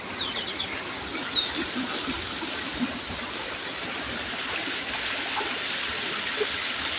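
Clear stream water rushes steadily over rocks in a constant, close flow, with a faint bird chirp early on.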